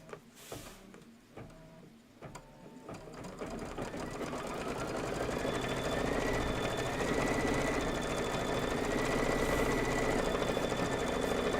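A sewing machine stitching a quilt block for a table topper starts with a few clicks and short bursts, then settles into a steady, fast mechanical whir that holds for several seconds.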